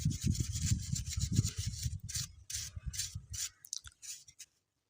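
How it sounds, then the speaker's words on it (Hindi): A brush scrubs a receiver circuit board clean in quick, close, scratchy strokes that turn lighter and more broken before fading to silence. "ब्रश की मदद से इसकी सफाई कर लें"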